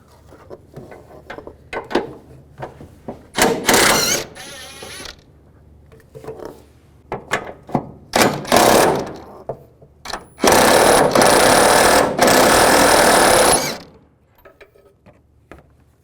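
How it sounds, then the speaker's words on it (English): An 18mm socket ratchet works loose the engine mount nuts on a 2010-2017 Chevrolet Equinox, with bursts of rapid clicking and a long steady ratcheting run near the end, close and loud, between quieter gaps. "I'm going to take those off, use an 18mm socket."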